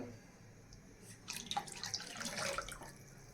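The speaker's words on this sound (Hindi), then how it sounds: "इसमें थोड़ा सा पानी और ऐड कर देती हूँ मैं।" Water is poured into a pan of kadhi, a yogurt and gram flour curry, as it cooks on a gas stove, making a close splashing trickle over a steady background hum.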